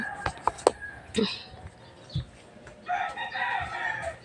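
Backyard pet chickens clucking and crowing nearby, with a few sharp clucks at first, then a louder rooster crow stretching over the final seconds.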